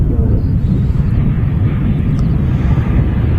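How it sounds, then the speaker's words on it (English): An EasyJet Airbus A320 arriving from Reykjavik at Manchester Airport, a loud, steady, low roar of jet engines with wind buffeting the microphone. "This aircraft is an A320. It's Easy OP, and it's in from Reykjavik."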